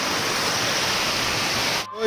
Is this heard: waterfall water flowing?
yes